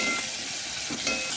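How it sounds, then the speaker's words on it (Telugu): Chillies fry in a pan for beetroot pachadi, a steady close sizzling crackle of hot oil with faint stirring and no voices. "చూసుకోవచ్చు మిరపకాయలు వేగినాయి."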